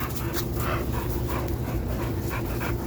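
American Bully puppies pant steadily and rapidly at close range, with a continuous breathy rhythm and a few small whimpers mixed in, filling the space without any talking.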